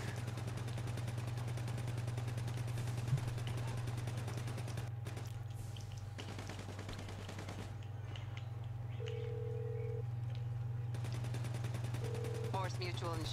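Video game gunfire from GTA V sounds as sporadic bursts over a constant low engine drone, with a couple of players talking over it.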